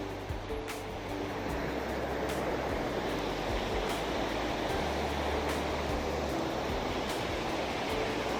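River water released from a dam rushes beneath the Arapuni swing bridge in New Zealand, making a dense, steady roar that carries on without a break, with a low rumble underneath.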